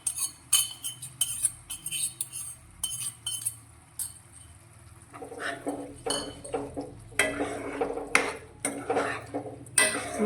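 Masala paste being stirred into tomato gravy in a pan for a chickpea curry, with repeated clinks and scrapes of a spoon against the metal, rapid in bursts, then a sizzling texture underneath the later strokes.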